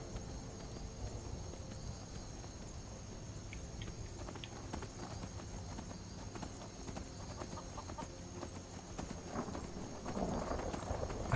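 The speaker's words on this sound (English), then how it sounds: "Oh, is this my horse? It is my horse, hooray!" Horse hooves gallop in Skyrim, played on survival mode in the rain, a quiet, steady patter of hoof strikes mixed with rain and ambient game sound, growing somewhat louder near the end.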